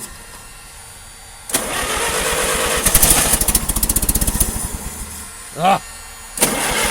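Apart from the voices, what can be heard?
old carbureted engine cold starting in winter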